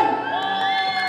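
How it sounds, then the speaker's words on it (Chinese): A concert crowd at a high-school rock band showcase whoops and cheers loudly for about a second, with sustained high shouts and no distinct clapping. "来，给他点掌声"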